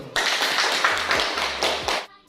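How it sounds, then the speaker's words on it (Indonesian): Classroom of students clapping hands together in a short burst of rhythmic claps, close and fairly loud, stopping abruptly near the end. "Tepuk tangan dulu."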